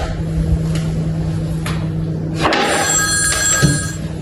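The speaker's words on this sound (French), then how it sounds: "Josiane, il y a encore quelqu'un qui appelle pour pas s'inscrire." A telephone rings with an incoming call at a tennis after-sales help desk, a steady repeating electronic ring heard close and fairly loud with a busy background.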